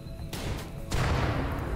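Colonists open fire on a rat in the colony simulation game RimWorld, a rapid volley of gunshots crackling in quick succession against a low rumble, loud and close.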